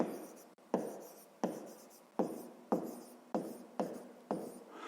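Pen or pencil writing by hand during a fifth-grade maths lesson, a series of about seven firm strokes scratching across paper in a steady rhythm, close and clear with no talking.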